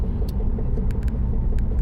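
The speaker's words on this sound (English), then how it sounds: "There is a knocking noise." A car with a knocking noise that began after a brake line repair, heard as a low rumbling drone with faint irregular knocks over it, fairly loud and steady, with no talking.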